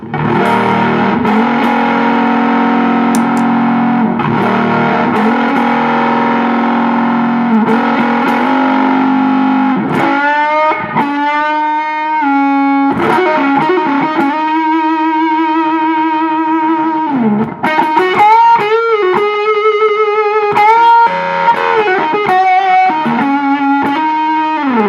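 Fuzzy, saturated electric guitar through a boosted Fuzz Face pedal plays sustained chords and then bending single-note lines, thick and loud with no talking.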